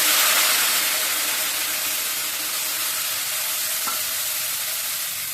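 Rice fries in a pan with salt, turmeric, chili, cumin and coriander powder and a splash of water, giving a loud, dense, continuous hiss and sizzle that fades slightly, close up with one brief clink.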